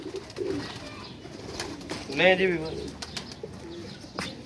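Pigeons cooing close by in a loft: a soft throaty coo swells midway, with fainter bird sounds around it and someone speaking briefly near the start.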